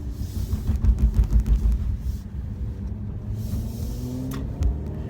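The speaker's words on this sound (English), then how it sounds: "Let's take it through a corner and see how it does." A 2017 Mercedes C43 AMG takes a corner, heard from inside as a low engine rumble with road noise, swelling briefly then settling into a steady drone.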